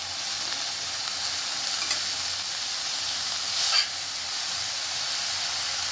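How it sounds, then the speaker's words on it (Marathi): Shepu dill greens sautéing with fried onion in a pan give a loud, even hiss of frying, with a brief louder burst of steam partway through and no voices. "कांदा चांगला भाजलाय, आता आपण त्यात भाजी टाकूया, थोडं परतून घेऊया।"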